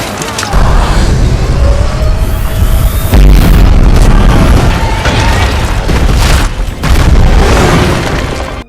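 Spaceship weapon blasts and rumbling explosions from a Thor film chase fill the scene, a loud, continuous barrage of booms and bursts with no speech.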